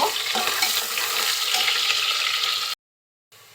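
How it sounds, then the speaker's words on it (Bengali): Chopped onion and whole garam masala with bay leaves frying in oil in a pan while being stirred, a steady close hiss and scrape that stops abruptly near the end and resumes faintly after a short silence. "আর কিছু গোটা গরম মশলা আরও দিচ্ছে পেঁয়াজ কুচি একটু নেড়ে নিব"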